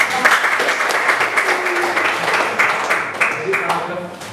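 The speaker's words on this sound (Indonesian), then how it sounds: "silakan kasih aplaus buat." Applause from a class audience after a group presentation, a steady broadband patter of many hands clapping that fills the whole stretch with no voices on top.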